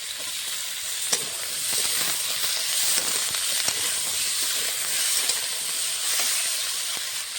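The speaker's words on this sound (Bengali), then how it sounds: "আলু আর সজনেটা হালকা করে ভেজে নিচ্ছি।" Potato pieces and drumsticks fry lightly in a pan for a rohu fish curry, with a continuous close sizzle and a few sharp clicks of stirring throughout.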